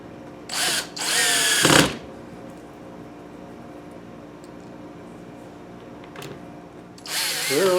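A power drill runs in short bursts while drilling through the cases of a homemade wood lathe, two close whining runs at the start, then quiet shop background before another burst at the end.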